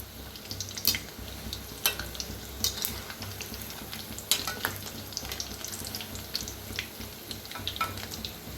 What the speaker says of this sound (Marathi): कांदा भजी म्हटलं तरी बी चालते. छान असे तळून घेऊया.